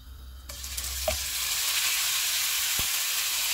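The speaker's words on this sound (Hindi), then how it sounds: "घी गर्म हो गया, इसमें कीमा डालेंगे" Minced meat keema dropped into hot ghee bursts into a loud, bright sizzle after a short quiet start, with a clatter of stirring, then a steady close frying hiss that continues to the end.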